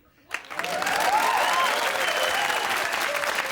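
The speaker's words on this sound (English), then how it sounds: "A round of applause for the post-war semi." Studio audience applause on a comedy show builds quickly after a short quiet start, then holds as steady, dense clapping.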